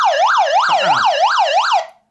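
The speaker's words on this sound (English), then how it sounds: "And there's also a siren function." Siren mode of an Agunto Tenergy emergency solar hand-crank radio: a loud electronic wailing tone sweeping up and down in fast, regular cycles, about six rises and falls, close and alone before cutting off abruptly.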